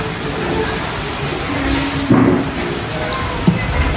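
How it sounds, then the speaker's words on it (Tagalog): Heavy rain pours steadily as a dense, even hiss during an outdoor family boodle-fight meal of grilled squid and mussels, with a couple of faint thumps and low murmurs beneath. "Kung kailang kasagsagan po ng pagkain natin, biglang lumakas ang ulan."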